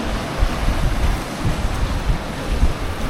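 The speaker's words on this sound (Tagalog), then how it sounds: "Ang lakas pa naman ng alon." Strong sea waves off Dingalan, Aurora, surging and crashing continuously with heavy wind buffeting the microphone, a loud, close, unbroken roar with no voices.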